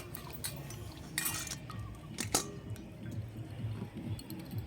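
Raw taro being washed by hand in water in a metal vessel, with splashing and dripping, soft clinks of the container and a low rumble underneath.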